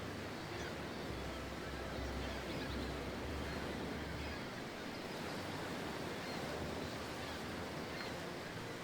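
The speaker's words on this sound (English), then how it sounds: "the sound of water is just a tad annoying" Steady water ambience in the video game Baldur's Gate, a continuous broadband wash like lapping surf or flowing water, even and moderately quiet throughout with no breaks.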